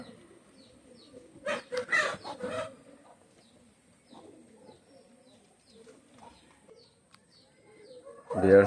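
A pair of Dabla pigeons cooing softly in short, intermittent bursts, with faint chirps and a louder burst near the end.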